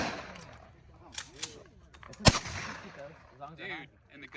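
A single sharp gunshot cracks at an outdoor shooting range midway through, loud and close, with fainter distant shots and people talking around it.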